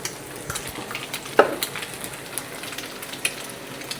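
Haggis, bacon and eggs fry together in a pan, a steady soft sizzle with occasional small crackles and a utensil tap or two, close and unbroken.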